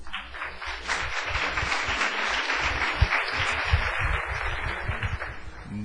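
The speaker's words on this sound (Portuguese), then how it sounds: "Uma salva de palmas para o professor." Audience applauding a visiting professor at the start of an academic forum lecture on systematics and evolution; moderate, uneven clapping from a smallish room, continuing steadily with individual claps standing out.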